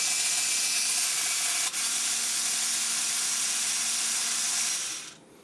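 A VEX V5 motor runs a test on a gearbox, giving a steady, fairly loud mechanical whir and hiss that holds evenly and then cuts off sharply just before the end.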